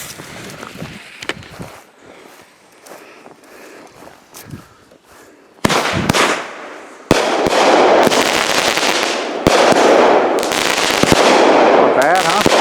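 Machine gun shell fireworks go off outdoors, first as scattered quieter pops, then as a loud, rapid, continuous crackle of bursts that builds and carries on to the end, with voices faintly in the background.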